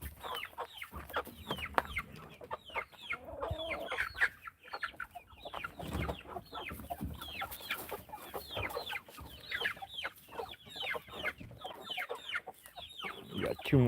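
Several hens cluck steadily as they head into the coop at dusk, their short calls overlapping near the microphone with no talk.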